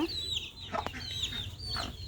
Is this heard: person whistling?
no